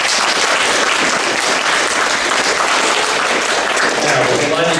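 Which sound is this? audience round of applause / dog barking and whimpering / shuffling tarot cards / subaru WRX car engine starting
audience round of applause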